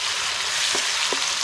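Tomatoes fry with shallots and cashews in a pan over a village fire, giving a steady broadband sizzle with two soft stirring knocks partway through.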